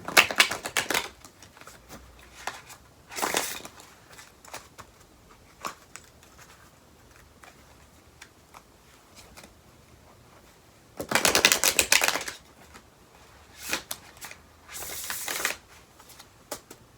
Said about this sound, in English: I'm just going to shuffle these cards a bit